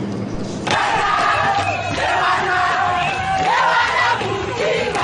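A large crowd in Kinshasa roars and cheers at a voter card event, a dense loud swell of yelling and whooping voices that surges after a brief quieter start and stays strong to the end.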